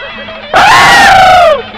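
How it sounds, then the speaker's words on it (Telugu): A man lets out a loud, sustained scream lasting about a second, rising sharply from a quieter room background and then trailing off. "వీడెందుకండి జురాసిక్ పార్క్ సినిమా చూసిన లెవెల్లో అరుస్తున్నాడు?"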